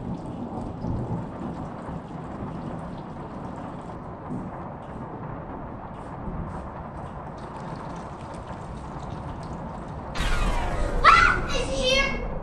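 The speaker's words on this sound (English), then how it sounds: "It's just a storm." Thunderstorm with rain: steady low rumble and rain noise throughout, then a louder crack or burst of thunder near the end, while children's voices talk over it.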